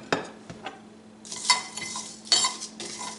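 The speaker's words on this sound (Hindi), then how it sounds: "इनको डाल के इसमें जो है ड्राई रोस्ट कर लेते हैं इनको, और लो हीट पे करना है, ये जल ना जाए।" Whole cumin, bay leaves and cinnamon sticks dry roasting over low heat in a pan, with a few soft stirring scrapes and light rustling, louder bursts of crackle near the middle and end, close and quiet with no talk.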